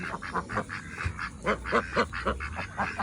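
Two-month-old Pekin ducks quack and honk close by, a busy overlapping chorus of short nasal calls with no talking.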